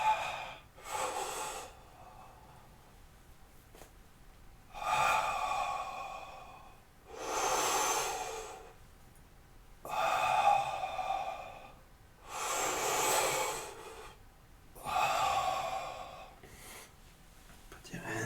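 Slow, deep yoga breaths, each inhale and exhale a soft airy rush repeating about every two and a half seconds, close and quiet with no talking.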